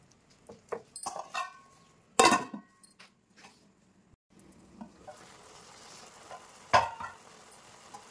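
Mutton kheema cooks in a pan, a faint low simmer broken by a few sharp scrapes and knocks of a spoon against the metal, with quiet gaps between.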